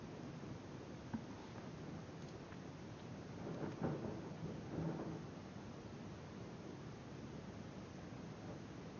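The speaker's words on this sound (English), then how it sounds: "Damn, there's a storm outside." A thunderstorm rumbles outside as a faint, steady wash of rain-like noise with a soft low roll of thunder swelling midway, distant and with no voices.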